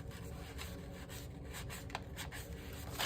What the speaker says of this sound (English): I'm going to kind of make a fold because I'm going to trim this